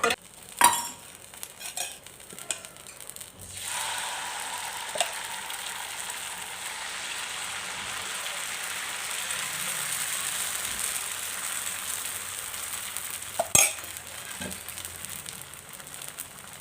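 Uttapam batter sizzles steadily on a hot pan, a continuous close frying hiss with a few sharp clinks of a utensil at the start and again near the end.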